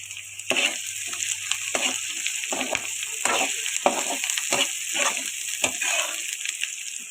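Curry leaves and ginger garlic paste crackle and sizzle in hot oil in a pan, with a steady frying hiss broken by repeated scraping stir strokes throughout.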